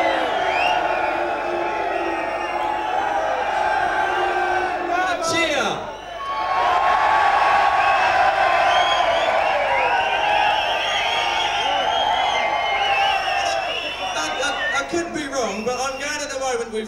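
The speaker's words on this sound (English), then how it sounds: "With Carol, it was the loudest cheer." A large outdoor crowd at the Bug Jam 1994 VW show cheering and whooping for a Miss Bug Jam contestant, a loud, sustained roar with shouts, a brief dip in the middle and voices speaking over it.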